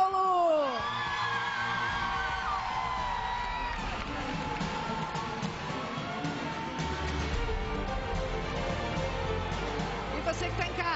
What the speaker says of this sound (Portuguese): Eu quero ouvir o grito agora